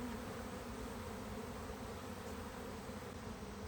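A honeybee swarm gathering back at a tree gives a steady, continuous buzzing drone, fairly faint and even throughout, with no voices.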